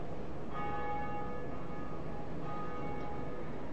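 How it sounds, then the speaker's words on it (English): The first Bell of Awakening in the Dark Souls video game tolls once as a single resonant church-bell strike, its bright ringing tone sustaining and slowly fading over a few seconds against a quiet background hum. "That's the first bell of awakening."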